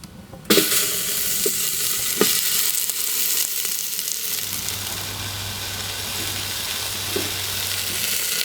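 Fallow deer meat frying for a stew while camping in a farm shed: a loud, steady sizzle close by, with a few clunks of stirring and a low hum joining partway through.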